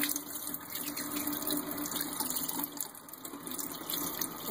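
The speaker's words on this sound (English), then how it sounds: "Now I'll turn the water on." Tap water runs steadily into a sink while rainbow trout are being cleaned, a continuous close hiss and splash that stays even throughout, with no talking.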